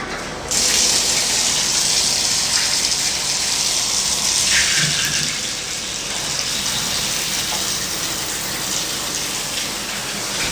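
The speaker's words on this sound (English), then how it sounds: "water is all working properly." Water gushes steadily from a tap for the full stretch during a move-in inspection, a loud broadband rush that starts abruptly and holds nearly constant, with no talking.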